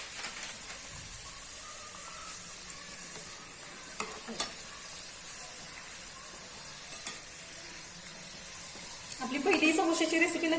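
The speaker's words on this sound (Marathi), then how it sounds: "समोसे तळताना काही करायचेच नाही अजिबात तरच आपले समोसे छान खुसखुशीत होतात" Homemade samosas deep frying in hot oil, a continuous close sizzle with soft bubbling, occasional sharp clicks, and a louder, busier burst of frying near the end.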